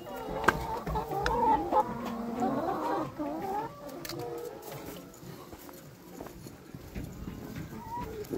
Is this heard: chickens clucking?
yes